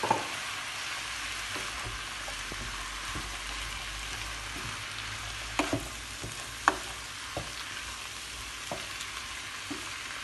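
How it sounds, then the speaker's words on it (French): Vegetables and chicken frying in olive oil, a steady, dense sizzle throughout with occasional soft clicks from stirring, close and unbroken without talk. "Voilà mes légumes sont en train de se cuire."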